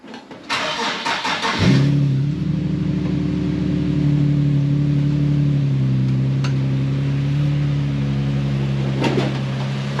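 A slammed Nissan Patrol engine cranks over with a rapid stuttering starter, catches, and settles into a loud, steady, rumbling idle close by.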